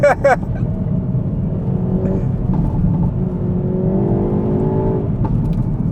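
A 2022 Hyundai i30 N with a dual-clutch automatic takes a corner with slight lift-off oversteer. The engine drones loudly and steadily inside the cabin, with a brief voice-like sound at the very start.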